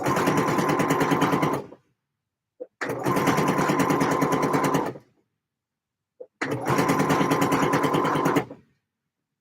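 A sewing machine stitches a line of sewing in three long, steady motor bursts of about two seconds each, separated by short pauses with faint clicks, close and loud with no talk.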